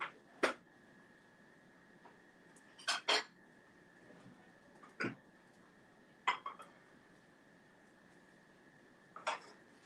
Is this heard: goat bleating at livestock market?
no